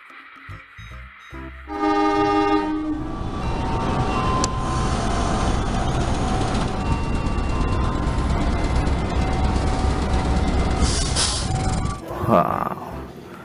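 An electric KRL commuter train in Indonesia rolls past close by, a steady loud rumble with a horn toot near the start and a brief squeal near the end.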